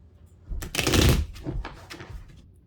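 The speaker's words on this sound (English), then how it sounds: "more shuffles" Crisp papery riffling of a tarot deck being shuffled, a dense burst followed by a few lighter flicks and taps, close up.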